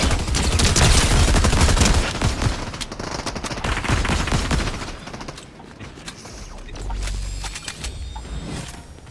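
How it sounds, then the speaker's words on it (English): Rapid gunfire from a mythic DMR and other weapons in a Fortnite squads match, dense loud bursts of shots packed together early, easing into quieter scattered mechanical clicks and rumble later, no speech. "this mythic DMR is like 3 shots"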